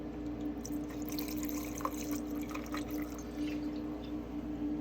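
Tequila is poured as the first ingredient of a burning pineapple cocktail, a faint, steady liquid trickle alone in a quiet room.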